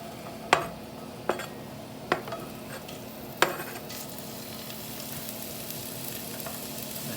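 Beef sizzles steadily in avocado oil in a cast iron pan, a constant frying hiss broken by four sharp utensil clanks against the pan at uneven intervals.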